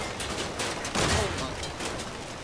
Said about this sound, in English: I'm getting machine gunned in here to pieces right now